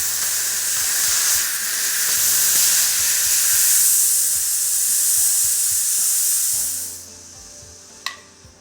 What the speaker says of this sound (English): not only can you hear the pressure release